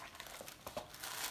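Crinkly rustling and tearing of the wrapping on a beauty subscription box being pulled open, a short close run of papery crackles, fairly quiet and with no talking.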